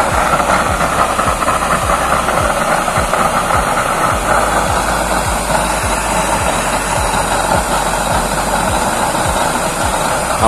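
A used-oil burner stove with an automatic regulator roars steadily as flame pours out of its ring: loud, close and continuous broadband rushing, with faint rhythmic pulsing underneath.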